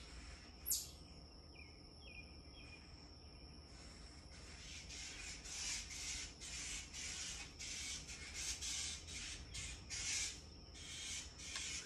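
A bird raises a frantic alarm while a squirrel raids its nest, giving sharp, harsh squawks. One loud cry comes near the start, followed by a long run of rapid, repeated calls over a quiet outdoor background.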